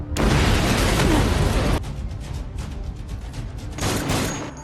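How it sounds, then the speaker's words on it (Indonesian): A heavy roaring blast from a big explosion at a prison, with broad rumbling noise, dropping off abruptly, then a second burst of roaring near the end. "Tepat jam 1 siang, ledakan besar terjadi di penjara ini."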